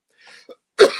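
One sharp, close cough bursts out after a faint breathy intake, loud and alone in a quiet room.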